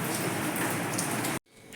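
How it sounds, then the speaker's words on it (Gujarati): Light, steady rain falls on a morning at home, a close, even hiss that cuts off abruptly near the end, with no one talking. "આ ધીમો ધીમો વરસાદ ચાલુ જ છે"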